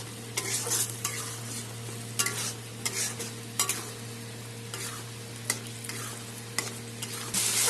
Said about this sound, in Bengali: মশলা কষানো হচ্ছে, মশলা থেকে তেল বেড়ে দিলে আমি জলটা দিয়ে দেবো।